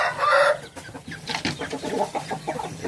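Roosters cluck and crow nearby in short, uneven bursts, with a loud call at the start followed by rapid, choppy clucking.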